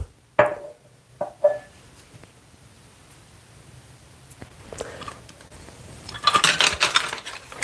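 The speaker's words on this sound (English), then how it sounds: "So here's the spoons all together that I got." Metal spoons clinking together in a few sharp separate chinks early on, then a busier jangle of clattering spoons toward the end, close and fairly quiet.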